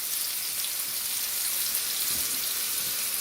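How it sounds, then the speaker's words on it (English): Mushrooms for buckwheat soup sautéing in a hot pan, a steady dense sizzle with a soft crackle throughout, close and even, no talking. "So we'll throw this in there and we'll saute this for a few minutes."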